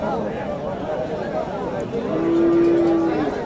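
A crossbred dairy cow at a rural cattle market gives a long, low moo close by, rising over crowd murmur and someone talking.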